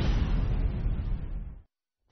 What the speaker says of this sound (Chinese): 这是墨西哥一家天然气公司发生爆炸时的监控画面，爆炸的冲击波瞬间淹没了整个画面